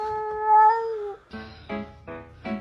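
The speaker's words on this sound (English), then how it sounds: "these cats are beefing at 7 a.m." Cats fighting at 7 a.m. give a long, loud, close yowl that falls in pitch, then several harsh, rhythmic caterwauling bursts follow in quick succession.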